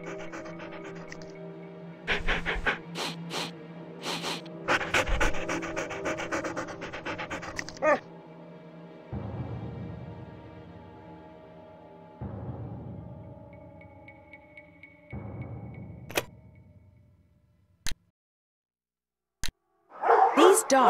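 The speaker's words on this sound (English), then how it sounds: "These dogs have been trained to act vicious on command." Dogs in the Nancy Drew game Ghost Dogs of Moon Lake pant heavily and give a few barks, close and loud, alongside talking voices and short bursts of game sound.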